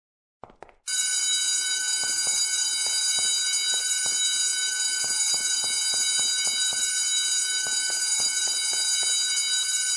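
A loud, continuous electronic alarm rings without pause in a library in the video game DeathSpank, a steady shrill tone after a brief lead-in, with faint clicks beneath it.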